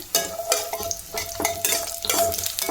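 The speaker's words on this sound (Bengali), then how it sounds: "কড়াই সর্ষের তেল দিয়ে দিয়েছি, তেলটা গরমও হয়ে গেছে। আগে বড়ি আর উচ্ছেটা ভেজে নেব।" Bori lentil dumplings fry in hot mustard oil, a loud close sizzle broken by repeated rhythmic scraping stirs roughly every half second, with no talking.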